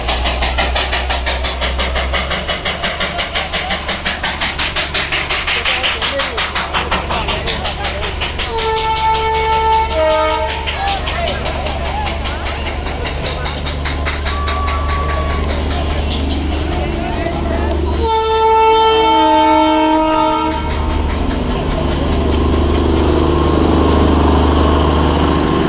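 A Darjeeling Himalayan Railway mountain train rumbles steadily nearby while its horn blares twice, one short blast and a longer one later, over a continuous engine drone.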